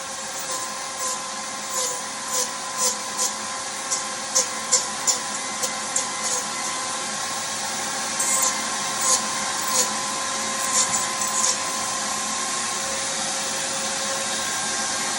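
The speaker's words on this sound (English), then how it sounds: "I move the vacuum up higher" A vacuum cleaner runs with a steady, loud hum during foam carving of an owl, sucking up debris. Brief regular ticks and rattles of foam bits sound over the drone.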